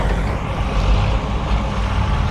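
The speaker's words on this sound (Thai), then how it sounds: "ฟังโน่นรถติดหรือเปล่าเนี่ย" Steady low rumble of road traffic, engines idling and droning with heavy vehicles close by, a continuous congested hum with no clear breaks.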